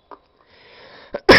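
A person coughs a few times at close range, one short burst near the start, a second around the middle, then a sharper, louder burst at the end, with quiet gaps between.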